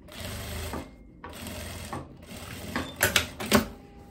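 A sewing machine stitches a strap on a striped linen dress in short bursts of rapid mechanical whirring with brief pauses, close and clear, with no talking.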